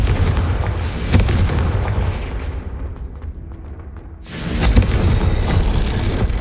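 A Confringo fire spell explosion in the Hogwarts Legacy video game goes off as a loud blast with a rumbling tail that fades, then a second burst swells back up, with no one talking over it.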